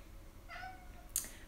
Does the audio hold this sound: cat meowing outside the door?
yes